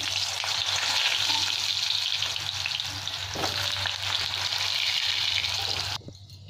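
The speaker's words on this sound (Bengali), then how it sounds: "এবার আমি তেলটা গরম হয়ে গেছে, আলু পটল ভেজে নিচ্ছি" Potato and pointed gourd pieces sizzle loudly and steadily in hot oil in a pan, a dense crackling hiss that cuts off sharply near the end.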